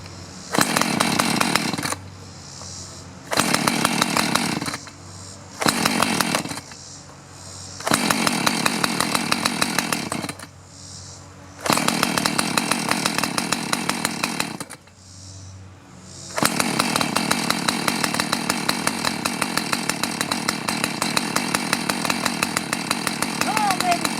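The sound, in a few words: two-stroke chainsaw engine running after long storage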